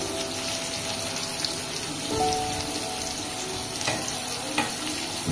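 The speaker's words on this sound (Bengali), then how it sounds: "এইভাবেই ভাজবো।" Thin-cut, flour-coated chicken shallow-frying uncovered in oil in a pan, giving a steady close sizzle with scattered pops and crackles, no voices.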